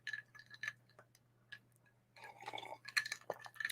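Someone drinking from a glass of water indoors: scattered soft clinks and taps of the glass, brief liquid and swallowing noises close by and fairly quiet, over a steady low hum, with no talking.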